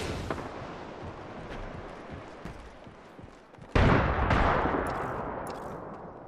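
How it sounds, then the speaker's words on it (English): Gunfire from the video game Apex Legends played on Xbox Series S, a continuous rattle of distant shots that suddenly jumps louder and closer partway through, with sharp cracks over dense noisy bursts. "Getting shot at."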